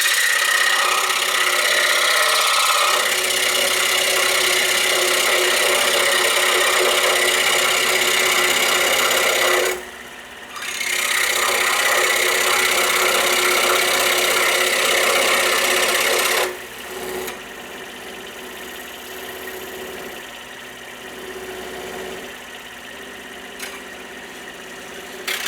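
A saw cuts a kerf line in wood for a shop-made beam compass, a loud continuous buzzing cut that pauses briefly around ten seconds, then drops to a quieter steady run near the end.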